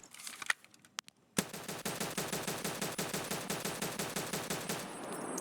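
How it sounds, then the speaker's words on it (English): Unsuppressed automatic gunfire in Escape from Tarkov: after a few scattered shots, a long burst of rapid, evenly spaced loud reports, sharp and close, continuing to the end. "What does it sound like without a suppressor actually?"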